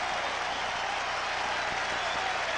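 A tennis crowd at the 1977 US Open final roars and applauds in a dense, continuous wash of clapping and cheering that fills the stadium without letup.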